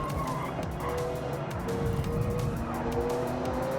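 Racing car engine in Forza Horizon 6 drones steadily with shifting pitch, joined by brief tyre squeals and skids during an online race, continuous and fairly loud with no talk.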